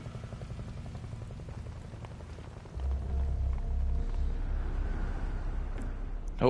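Rain falls in the stealth video game Metal Gear Solid Delta: Snake Eater, a soft steady patter under low rumbling tones that thicken into a heavier drone midway.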